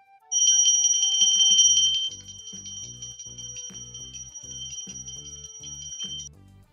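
Electronic bell ringing for a children's reading quiz, a bright loud trill for under two seconds, then a quieter steady ring over a rhythmic tune of low repeating notes until it cuts off.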